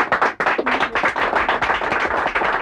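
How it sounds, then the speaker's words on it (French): A crowd at a local FM radio station's event claps loudly and densely, a close, continuous burst of applause lasting a few seconds. "on l'applaudit très très fort"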